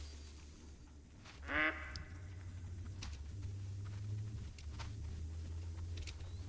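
A duck in the hunting game theHunter: Call of the Wild gives one short burst of quacking early on, briefly rising above a steady low ambient rumble of wind and game atmosphere, with no talking.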